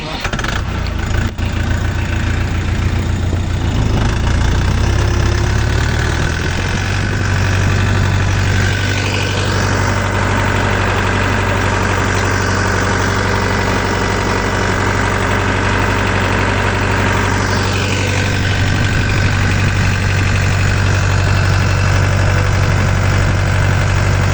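A Dongfeng 404 tractor engine runs steadily at around 1500 rpm while cultivating with a homemade cultivator, giving a loud, continuous diesel drone with a strong low hum that holds throughout and has no speech over it.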